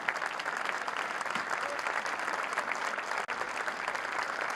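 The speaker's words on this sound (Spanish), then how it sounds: "Repetimos el aplauso entonces." A large church audience at Catedral de la Alabanza claps again in a dense, even wash of applause that holds steady throughout, with one brief dip near the end and no speech over it.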